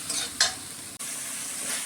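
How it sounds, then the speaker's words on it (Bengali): Ground spices (salt, chilli powder, cumin powder, turmeric) fry in oil while being stirred, giving a close, steady sizzle broken by a brisk scrape of the spoon and a short dropout. "এখন মশলাটাকে একটু ভালো করে ভেজে নিই।"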